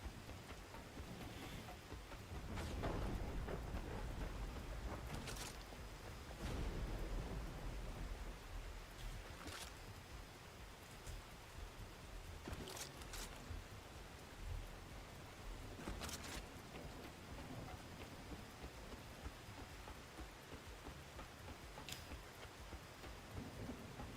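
A lightning storm with rain rages in the video game The Last Caretaker, with a constant heavy rain hiss and repeated sharp thunder cracks spaced every few seconds, loud and enveloping, no voices.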